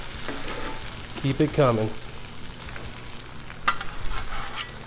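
Eggs fry on a hot Blackstone griddle for a breakfast sandwich, a close, steady sizzle with a metal spatula scraping and flipping, and a person speaks briefly over the cooking.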